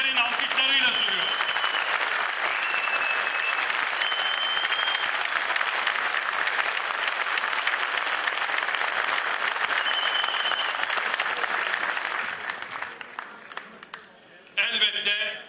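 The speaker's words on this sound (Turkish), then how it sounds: "Bir kocaman teşekkürü de Metin Başkanıma sizlerin alkışlarıyla sunuyorum" An audience at a political panel in Muğla claps loudly and steadily for a long stretch, dense applause that fades near the end as a voice starts to speak.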